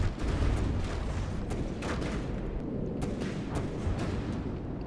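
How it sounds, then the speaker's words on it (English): Missiles strike in a naval battle in the game From the Depths, producing a dense, continuous rumble of blasts and crackling impacts that stays loud throughout. "Oh, the Imp's missiles are coming in and something is happening."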